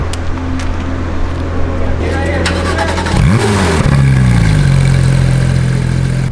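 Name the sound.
Porsche GT3 engine accelerating on race track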